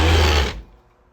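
Sewing machine top stitching a round-cornered garment pocket, a loud close mechanical whir for about half a second before it stops and fades away.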